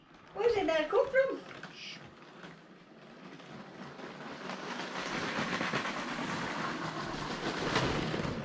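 A short burst of voices, then a steady rattling rumble of a three-carriage Lego train running along its track, growing slightly louder and continuing throughout.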